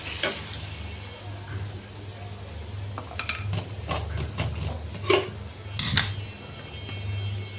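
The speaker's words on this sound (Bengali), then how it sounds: "এখন রসুনগুলো ভেজে নিচ্ছি।" Garlic and onion frying in a pan, a constant close sizzle with scattered clinks and scrapes of a spatula stirring, over a low hum in the background.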